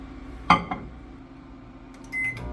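Microwave oven running while melting two tablespoons of butter in a microwave-safe bowl; a steady low hum with a sharp click or clunk near the start and a brighter tone toward the end, no talking.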